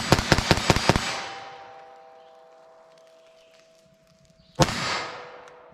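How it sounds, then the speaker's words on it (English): CCI Stinger .22 LR rounds fired in rapid succession, six sharp close cracks in about a second with ringing decay, then one more loud shot after a pause. "I'm going to see what kind of practical shootability I can get with these, just rapid fire"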